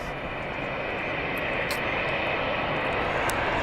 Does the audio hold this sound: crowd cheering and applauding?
no